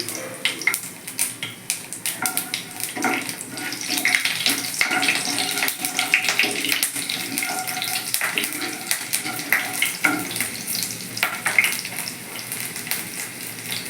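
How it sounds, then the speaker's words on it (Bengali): Black cumin seeds and slit green chilies temper in hot oil for a Bengali ridge gourd and potato posto, with a loud, busy crackle and spatter of rapid pops running throughout, plus occasional clinks from the pan. "কালো জিরেটা ফোড়ন দিয়ে দিলাম আর দুটো চেরা কাঁচা লঙ্কা দিয়ে দিচ্ছি"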